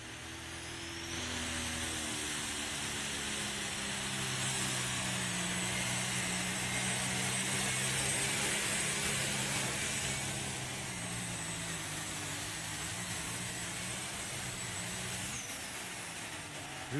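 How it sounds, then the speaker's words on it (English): A loud pulling tractor engine roars steadily and continuously at a tractor pull, with the top points-leader machine driven by Brady Gosler of Ute, Iowa, holding a sustained drone with shifting harmonic whine throughout. "Here comes your number one tractor in points."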